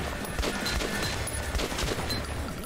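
Rapid AK rifle fire in the video game Metro 2033, a loud, dense burst of shots packed close together that fills the short stretch without a pause.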